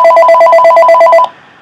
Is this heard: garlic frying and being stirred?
no